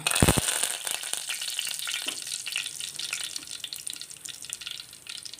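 Curry leaves crackle and sizzle in hot coconut oil for a squid dish, a sharp burst of popping at the start settling into steady frying hiss with occasional clinks, close and fairly loud, no voices.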